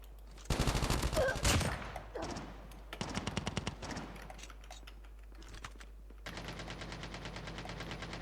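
Rapid bursts of LK24 assault rifle fire in a Call of Duty Mobile battle royale match, several loud automatic volleys separated by short pauses, ending in a steady sustained burst.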